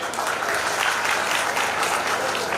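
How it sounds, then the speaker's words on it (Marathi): An audience at a felicitation ceremony for meritorious students, held on Sant Sena Maharaj's death anniversary, claps together: dense, steady applause close by for a couple of seconds with no break. "त्या सर्वांसाठी एकदा टाळ्या वाजवावे"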